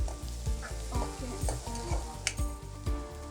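Onion fries in a pan for a Chettinad vegetable curry, a continuous sizzle with regular scraping strokes of a spatula recurring every few tenths of a second, close and moderately quiet, without speech.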